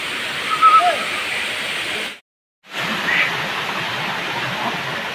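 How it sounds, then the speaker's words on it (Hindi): A waterfall at Harishankar gives a steady, broad rushing roar, close and loud, that breaks off briefly midway and then resumes, with a voice faintly under it. "देखो झरना एटा वाटरफॉल"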